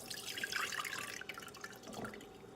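Homemade buttermilk and butter pour into a strainer with a close liquid splash and trickle that tapers off into light drips.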